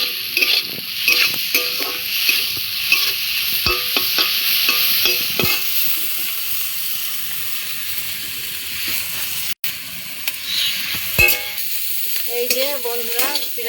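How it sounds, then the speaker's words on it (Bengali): Food fries in a pan in a home kitchen after turmeric and salt are added, with a continuous loud sizzle and the repeated scrape and clatter of a stirring spatula close by, nearly free of talk. "এই তো হয়ে এসেছে এটা ভাজা"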